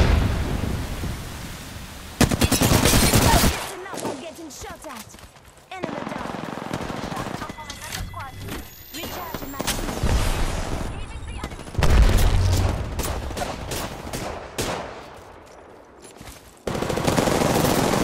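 Bursts of automatic gunfire and booming shots from an Apex Legends battle royale firefight, loud and repeated in clusters with gaps between volleys, with a voice speaking over parts of the action.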